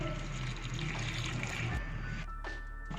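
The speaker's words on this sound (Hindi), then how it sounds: "आधा ग्लास इसमें पानी ऐड कर दें।" Water pours into a cooking pot of mutton biryani in a steady, continuous splashing stream, close by, then eases off near the end; no voices.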